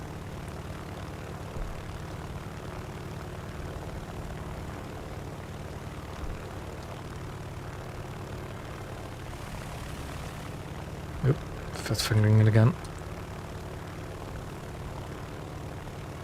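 A propeller plane engine in a naval combat game on a French coastal map drones steadily throughout, with a brief louder burst of other game noise near the end and a short spoken remark.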